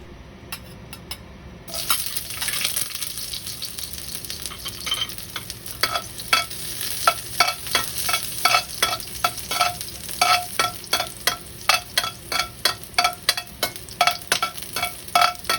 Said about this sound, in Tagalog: Antayin uminit ang mantika bago natin ihulog ang bawang.